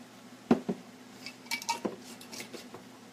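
Salsa being mixed into a beef stew for burritos with a utensil against the pot, a few distinct clanks and scrapes in uneven bursts, close and moderately loud with no voices.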